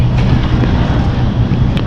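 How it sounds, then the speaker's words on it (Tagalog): Strong wind buffets a passenger ship at sea, producing a loud, continuous low roar with steady gusting rumble close to the microphone and no clear pauses. "Yan, lakas ng hangin."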